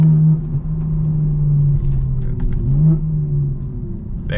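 Exhaust of a custom-tuned BMW G82 M4 with its burbles switched off, giving a smooth, steady low engine drone with slight swells and no crackle or pops, close and fairly loud.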